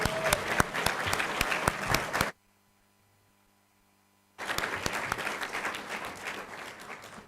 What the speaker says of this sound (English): please join me in applauding our new freshman first year in college students.